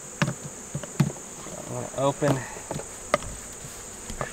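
Honey bees buzz around an opened hive during a mite check, a steady insect drone under someone talking nearby, with a few soft knocks and clicks.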